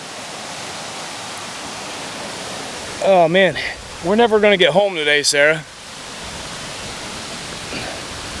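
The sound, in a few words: waterfall next to campsite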